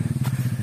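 A motorcycle with chains on its tires descends a slick, rain-wet slope near Way Bernung. It gives a close, loud, rapid rhythmic engine chug with a faint clatter.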